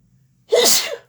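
A single sharp, close sneeze bursts out of near silence and fades quickly.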